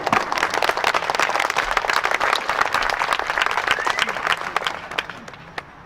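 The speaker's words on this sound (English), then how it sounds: "So I'd like to give you guys a round of applause for your guys' support." A crowd at a political rally applauds with dense, loud clapping that carries on for several seconds with scattered cheers mixed in, then tapers off near the end.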